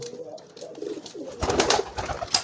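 Low, throaty courtship cooing of pigeons close by, repeated in soft rolling phrases, with a burst of wing flutter and scuffling joining in partway through.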